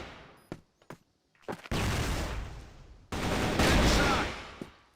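Gunfire from the shooter CrossFire during a competitive esports match: a few isolated single shots, then two long bursts of rapid automatic fire, loud and close.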